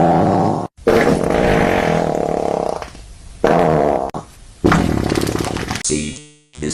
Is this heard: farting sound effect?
yes